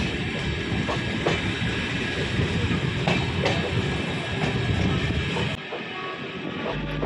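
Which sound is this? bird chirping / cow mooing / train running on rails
train running on rails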